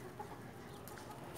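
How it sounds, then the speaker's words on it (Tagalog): Chickens cluck and squawk noisily in a brief, faint burst, with no voices over them. "Nag-iingay yung mga manok."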